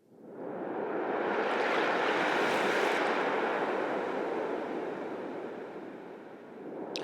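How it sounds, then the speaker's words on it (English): A broad, steady wash of ocean waves, processed with reverb and shimmer, swells up loudly and sustains before slowly fading, with no voices. "So here's some ocean waves."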